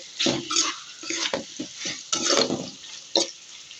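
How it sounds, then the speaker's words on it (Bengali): Chopped tomatoes get stirred in a frying pan in a few bursts of wet sizzling and spatula scraping, separated by brief pauses, loud and close with no speech. "এই যে আমার কাটা টমেটোগুলো আমি দিয়ে দিলাম। এগুলো ভালোভাবে নাড়াচাড়া করব।"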